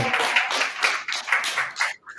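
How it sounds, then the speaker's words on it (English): A crowd claps steadily in dense, sustained applause that fades out near the end. "Give a round of applause for that"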